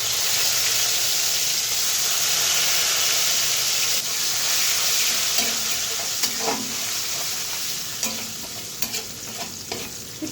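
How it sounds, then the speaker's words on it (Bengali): Soaked Joha rice frying and being stirred in a pan with whole cumin, a steady close sizzle and hiss with scraping stir strokes growing more distinct toward the end. "একটু হালকা হালকা ভাজা হয়ে গেলে মশলাটা দিয়ে দিব"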